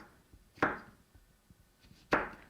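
A knife chops through vegetables on a cutting board in two sharp, distinct knocks about a second and a half apart, close and clear over a quiet background.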